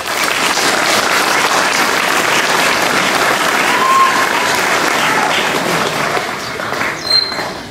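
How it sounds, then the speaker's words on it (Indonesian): Sustained applause from a crowd at a school flag-raising ceremony, steady and dense clapping across the whole stretch, loud and close, with a faint voice or tone briefly rising near the end. "Tepuk tangan dulu."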